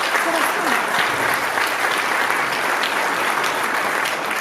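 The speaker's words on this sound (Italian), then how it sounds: "grazie per l'applauso" Audience applause at a public evening event in Gemona, dense steady clapping throughout with a voice talking over it.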